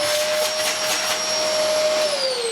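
An Electrolux Sanitaire upright vacuum cleaner roars steadily through its hose with a loud, close whine whose pitch drops slightly near the end.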